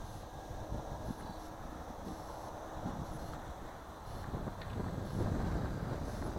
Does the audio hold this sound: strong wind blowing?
yes